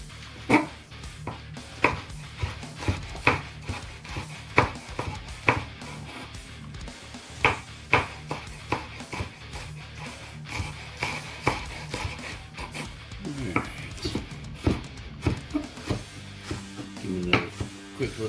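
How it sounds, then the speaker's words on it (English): A knife makes quick little chops through garnish on a cutting board while preparing Asian garlic noodles, a close series of crisp knocks in uneven bursts with short pauses between runs. "Quick little chop, little chop. And we're gonna go ahead and chop this up"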